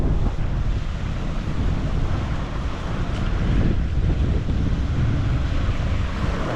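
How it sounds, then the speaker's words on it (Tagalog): Sea waves and wind at a shore in Quezon, heard from a motorcycle stop during a ride, with steady broadband surf wash and wind buffeting the microphone throughout, loud and continuous with no speech. "dagat yan."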